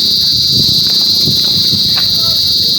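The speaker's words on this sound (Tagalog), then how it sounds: "Kuliglig. Maliliit lang yan pero lakas ng tunog." Loud, continuous shrill chirring of crickets fills the scene, with faint low rumbles and distant background noise beneath.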